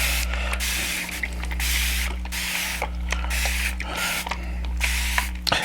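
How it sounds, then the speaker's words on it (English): Several bursts of a spray bottle spritz water onto a fabric appliqué, each hissing puff close and distinct, repeated in a steady rhythm over a constant low electrical hum. "I'm going to apply my moisture via a spritz bottle"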